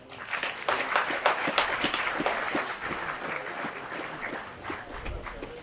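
Sustained applause from a sizable audience, dense overlapping claps that swell at first and then gradually thin out toward the end.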